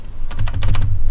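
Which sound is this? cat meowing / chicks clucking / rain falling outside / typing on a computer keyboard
typing on a computer keyboard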